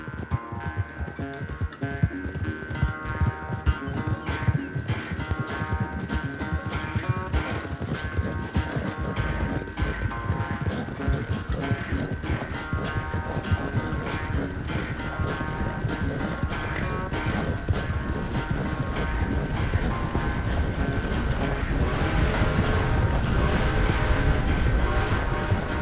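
Hooves of several horses gallop in a steady rapid clip-clop through a video game horse race, loud and continuous with a musical score running underneath.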